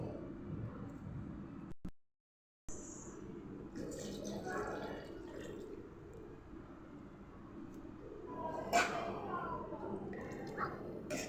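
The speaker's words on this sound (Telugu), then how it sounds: "వాటర్ యాడ్ చేస్తున్నానండి." Water poured into a simmering mutton head curry in a home kitchen, a soft splashing and trickling pour that pauses briefly and resumes, with a person talking over it.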